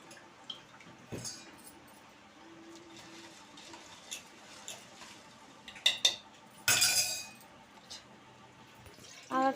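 A spoon stirs a milk, jaggery and pepper mixture in a bowl for junnu, giving sparse metallic clinks and scrapes that grow into a louder burst of clattering near the end, with no talking.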